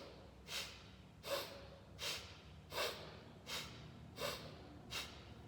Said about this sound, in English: we're going to exhale strongly through the nose, and this time the belly contracts